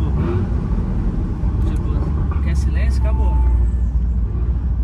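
Turbocharged Audi car engine rumbling low and steady up close, with voices talking over it.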